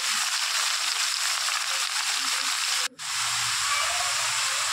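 Bottle gourd and shrimp fry in a pan, giving a steady, loud hiss and sizzle that runs almost without a break, dropping out for an instant near the middle before resuming at full strength.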